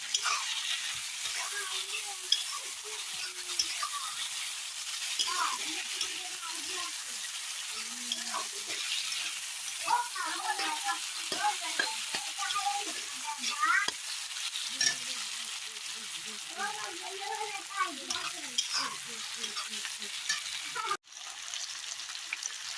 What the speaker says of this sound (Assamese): সেইকাৰণে বিলাহীখিনি ভাজি দিম